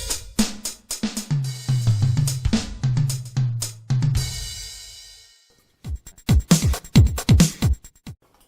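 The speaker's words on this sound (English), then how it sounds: "Altogether, you can make cool drum sounds like this." A portable electronic drum practice pad with extra kick and tom pedals plays a punchy beat of kick, tom and cymbal hits, pauses briefly, then resumes with sharp close strikes.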